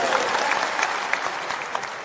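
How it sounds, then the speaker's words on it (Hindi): A large crowd at a political gathering in Bihar breaks into loud, dense applause, a steady wash of clapping that holds for about two seconds with no voices on top. "एक बार मेरे घर में फिर से इसके लिए जोरदार ताली दीजिए"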